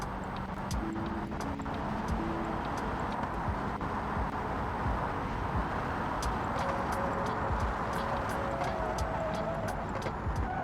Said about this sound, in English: This car got a lot of good handling.